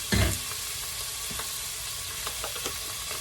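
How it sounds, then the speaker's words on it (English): Aromatics and green curry paste sweating in hot oil for a coconut green curry, a sharp burst as they hit the pan followed by a steady, soft sizzle with small crackles and stirring sounds. "Again, with aromatics, you always want to sweat those in the oil to release the full amount of flavor."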